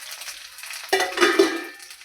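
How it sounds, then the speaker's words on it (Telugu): Tempering spices hit hot oil for a tamarind roti pachadi, bursting into a sudden sharp crackle and spatter of pops that fades off after a quiet, faint sizzle. "చిటపటలాడుతుంది చూడశారా"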